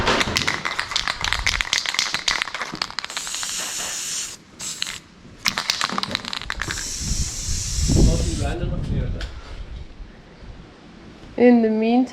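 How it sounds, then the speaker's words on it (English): A spray can of silver zinc coating hisses in several sustained bursts broken by short pauses, close and fairly loud, followed by a rattle and a faint voice. "we put the silver zinc spray on top"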